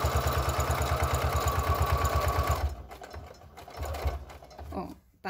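A sewing machine stitches a crystal plastic mask pouch up close, running in a fast, steady mechanical rhythm for a couple of seconds before stopping. A few softer handling clicks and rustles follow, and someone talks quietly over it.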